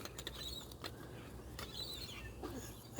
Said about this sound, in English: I'm just cleaning the barrel out. cleaning the a little bit of residue in there.